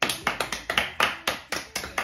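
Hand clapping, about ten steady, evenly spaced claps in quick rhythm, close and crisp with no talking.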